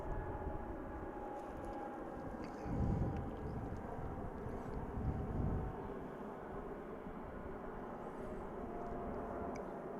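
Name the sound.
Boeing 777 airliner departing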